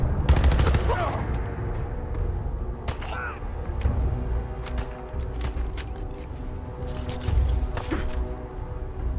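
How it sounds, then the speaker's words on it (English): Rapid bursts of gunfire from a Fallout 4 firefight crackle loud and near, with overlapping shots and a brief voice under the clatter. "do I have somebody shooting at me from..."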